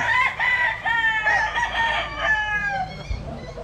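Gray stag roosters crow loudly and close by, with overlapping drawn-out calls and a few clucks mixed in.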